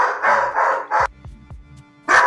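A large dog barks in loud, close bursts, three gruff woofs, then a pause with faint thumps, then one more bark at the end.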